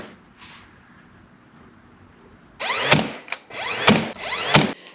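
Clamps ratcheted tight on a woodworking glue-up of many small wood pieces, several quick rasping bursts of pawl clicks in close succession after a quiet stretch.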